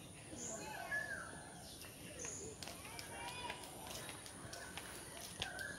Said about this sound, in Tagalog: Tingnan mo yung mga ibon dito